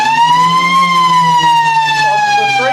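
The three-quarter time siren at a Lower South West Football League Australian rules match between Boyup Brook and Deanmill, a loud sustained wailing tone that sags slightly in pitch, with a commentator talking over it.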